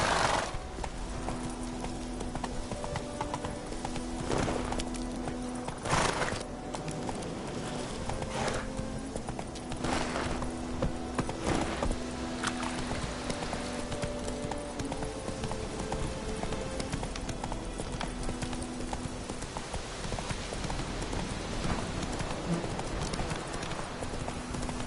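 Roach the horse's hooves clip-clop steadily on the ground in The Witcher 3, a continuous rhythmic trot running throughout over ambient game music, with an occasional snort or whinny.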